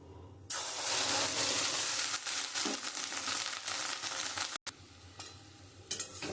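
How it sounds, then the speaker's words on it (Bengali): Fish roe rubbed with salt and turmeric hits hot oil in a wok and fries with a loud, bursting sizzle and hiss that settles into steady spattering, broken by a brief cut and later crackles. "কড়াই তেলটা গরম হয়ে গেছে আমি মাছের ডিমটা এবারে দিয়ে দেবো"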